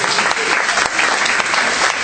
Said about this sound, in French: Mais on applaudit.